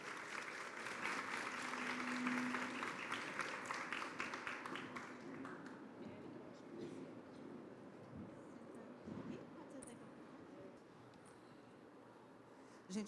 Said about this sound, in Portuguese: Por favor, salva de palmas aí para os nossos autores.